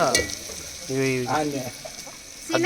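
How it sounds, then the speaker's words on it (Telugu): Onions and chillies frying and being stirred in a pan, with a steady sizzle broken by short scraping stirs; a brief voice-like tone and a few clucking sounds rise over it partway through. "ఉల్లిగడ్డ మిరపకాయలు గోలినాక మంచిగా వేగినాక కొంచెం బాగా వేగాలి"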